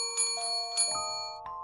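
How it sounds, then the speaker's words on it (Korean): A bell rings in a restaurant kitchen, several bright metallic dings in quick succession, each leaving a clear sustained ringing tone that fades out, alone and fairly close. "주방 쪽에서 종소리가 들렸다."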